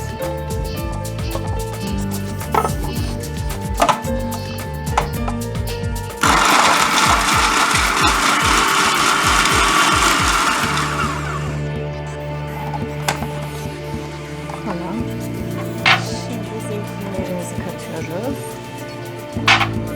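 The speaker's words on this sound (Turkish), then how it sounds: "Şimdi önce cevizlerimizi ve sarımsaklarımızı atıp onlar bir tur çevireceğiz." A blender whirs loudly for several seconds, chopping walnuts and garlic into a coarse mix, then spins down. Clatter and handling noises come before and after the burst.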